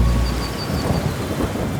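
A thunderstorm with heavy rain rumbles low and continuous, dense rainfall hissing steadily over deep rolling thunder, with no voices.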